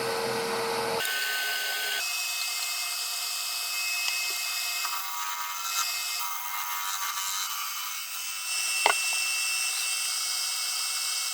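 Wood spinning on a lathe as a base piece is trimmed and rounded, a continuous high-pitched whirring and scraping grind with a few brief knocks as the tool bites, steady throughout and close up.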